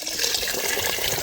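Water pours generously over rice as it is rinsed in a bowl, a continuous bright splashing and gurgling stream, close and fairly loud, with no talking.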